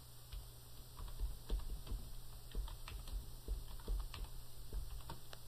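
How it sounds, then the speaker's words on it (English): A search phrase typed on a computer keyboard in steady, quick clusters of soft key clicks, close and quiet over a faint electrical hum, with no talking. "This time when I type in last unit cost, I'm also going to put it in quotes."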